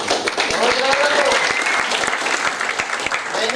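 Sustained audience applause at a Hindi-language distributor workshop, a dense steady patter of many hands clapping loudly throughout without pause.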